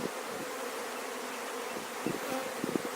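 Honeybees hum steadily inside an opened hive during a beekeeper's inspection of the brood frames, a dense, continuous drone with a few louder buzzes near the end from bees flying close.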